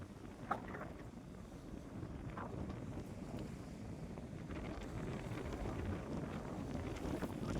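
Wind blowing across the open site of Khodiyar Dam, a steady low rumbling buffet against the microphone with a few gusty swells, continuous and fairly faint.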